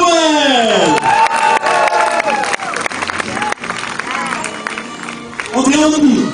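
A crowd cheers and claps at a medieval festival tournament in Riegersburg, the roar rising and falling beneath a loud announcer's voice that carries over it nearly the whole time.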